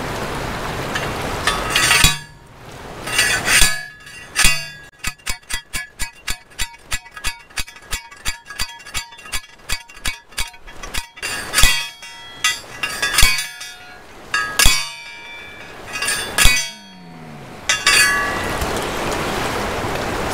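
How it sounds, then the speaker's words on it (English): A steel T-post is driven into the ground beside a river at a gold dredging site, with loud metallic clanks in a fast, regular run of strikes, then slower scattered blows and a few rattles. "So next I'm going to drive a T-post here in the ground."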